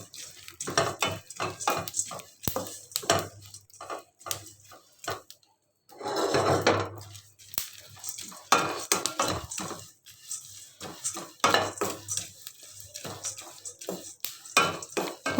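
Dry nuts roast in a hot pan and are stirred briskly, giving repeated close rattling, scraping bursts with short pauses between them.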